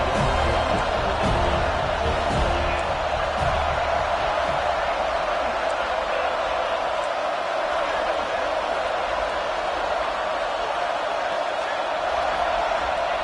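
A football stadium crowd roars steadily through a third-and-goal play in a college football video game, a dense sustained wash of cheering with no lulls.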